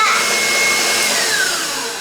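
An electric mixer whirs at high speed, beating a cinnamon sugar mix for bow ties, a steady loud motor drone with no pauses and no voices.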